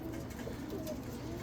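Roller pigeons coo softly in a loft, a low, steady murmur of several birds cooing over a faint background hum, with no talking.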